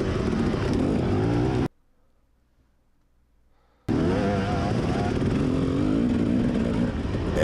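A racing car's engine revs hard close behind during a Mid East Round 2 race, a loud sustained roar that cuts out to near silence for about two seconds before resuming.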